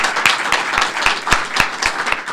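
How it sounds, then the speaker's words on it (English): An audience at a briefing event claps in a short burst of applause, with a handful of close, distinct claps ringing out over a scattered background patter. "So we just give them one more round of applause."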